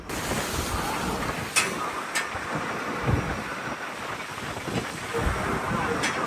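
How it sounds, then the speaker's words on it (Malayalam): A gill net fishing boat pushes through sea waves out on open water, heard as a constant rushing wash buffeted by wind noise, with a few louder thumps and splashes of water against the hull. "തിരമാലകളെ മുറിച്ച് കടന്ന് ഇനിയും ഒരു 17-18 ദിവസം ഈ ഫിഷിംഗ് ബോട്ടിൽ തന്നെ മുന്നോട്ട് കുതിച്ചു പോയിക്കൊണ്ടിരിക്കുകയാണ്"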